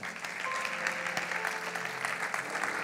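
A church congregation applauding, a dense, steady wash of clapping from many hands that holds at an even level throughout, with a few voices just audible within it.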